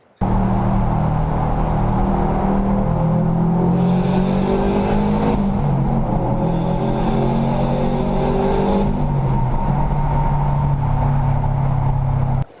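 A 2005 Subaru Legacy GT engine roars continuously, revving up in two sharp bursts with crackling exhaust, echoing inside a tunnel.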